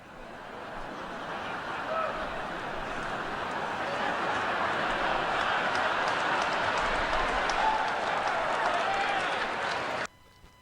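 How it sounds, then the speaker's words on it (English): An audience at a political speech breaks into sustained laughter and applause that swells in waves, fairly loud and steady for about ten seconds before cutting off abruptly. "There's a long period of laughter with several waves of laughter and applause"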